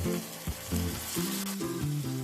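Small chopped tomato pieces fry in a pan for a chana masala, giving a close, steady sizzle broken by a few quick stirring scrapes. The burst is short, with no talking.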